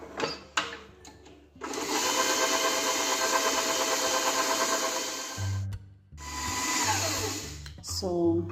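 An electric mixer whirs steadily through five-finger (carambola) fruit cake batter, a loud continuous motor drone that stops briefly, then resumes with a lower, lumpier churn.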